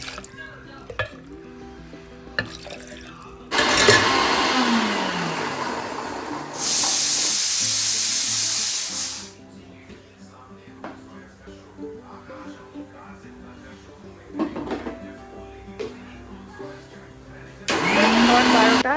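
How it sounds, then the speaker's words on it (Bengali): A kitchen blender whirs in bursts as soaked almonds and banana are blended with warm milk, the motor rising loud for a few seconds at a time between quieter stretches of handling noise. "এবার এটাকে একটু দুধ দিয়ে ব্লেন্ড করব"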